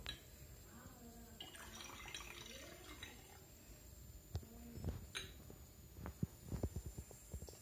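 Sodium sulfate solution is poured into barium chloride solution in a school chemistry demonstration, faint liquid trickling and glassy clinks near the end, with a voice talking in the first half.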